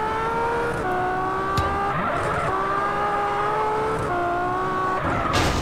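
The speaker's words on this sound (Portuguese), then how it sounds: "Áudio de carro esportivo" A sports car engine from a GTA video game sound pack runs loud and steady, its pitch gliding between gears in smooth rising sweeps, with brief squeaks and a sharper burst near the end.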